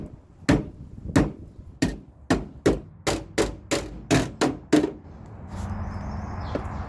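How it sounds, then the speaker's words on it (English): Metal patch over a drain hole on a Jeep YJ body being hammered flat: a run of about eleven sharp, close, loud strikes in a quick uneven rhythm, followed by a steady low hum. "bang it all as flat as possible with a hammer"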